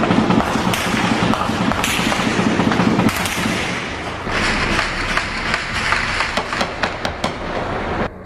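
Bursts of gunfire crackle through a Rio de Janeiro favela during a rival gang's attempted invasion of the São Carlos complex, loud sharp reports, some in quick runs, over a constant noisy background.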